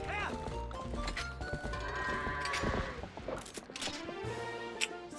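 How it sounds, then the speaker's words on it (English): A goat bleats in a video game, a quavering cry near the start over busy game music and sound effects, with speech-like sounds mixed in. "this one goat decided to try and ruin everything"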